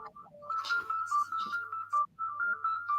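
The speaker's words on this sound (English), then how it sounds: "if you hear that funny noise in the background, it's my phone just saying that" A mobile phone sounds an alert in the background, a steady electronic tone running for a few seconds with short rhythmic pulses and chirps over a low hum.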